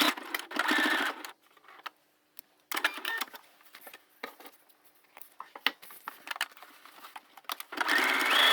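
A heavy-duty sewing machine stitches through a thick up-cycled placemat bag, with loud bursts of motor whir and needle clatter broken by short pauses and quieter handling.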